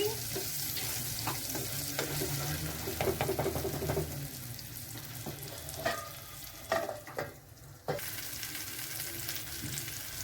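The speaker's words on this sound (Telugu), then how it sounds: "ప్యాన్లో ఆయిల్ వేసుకొని ఈ వంకాయ ముక్కలన్నీ వేసుకోవాలండి." Brinjal pieces sizzle in hot oil in a pan for a home-style brinjal curry, a continuous soft frying hiss with a few stirring scrapes and clinks, close by.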